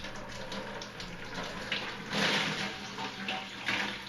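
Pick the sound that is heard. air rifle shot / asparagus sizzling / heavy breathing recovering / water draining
water draining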